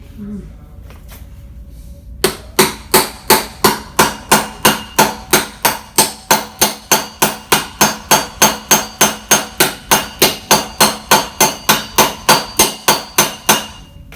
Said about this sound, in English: let's get that rivet head flat into our shoe